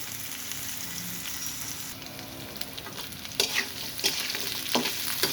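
Sun-dried lentil dumplings, onions and ginger fry in oil in a pan: a steady hiss that grows louder and crackles toward the end, punctuated by spatula scrapes, with no speech.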